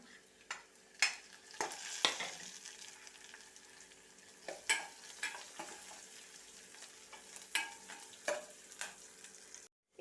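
Green chilies fry for rasam in a pan with a soft sizzle under repeated spoon scrapes and clinks on metal, close and fairly quiet, with no talking.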